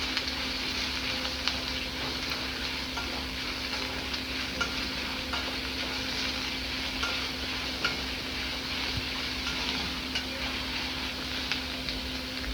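Two large onions sautéed in a pan until transparent for an Agri-style dried fish dish, a steady sizzle with repeated spatula stirring scrapes and a low constant hum underneath.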